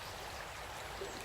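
The River Towie flows steadily at a wild mountain camping spot in South Wales, a soft continuous rush of stream water, fairly quiet and even throughout, with no voices.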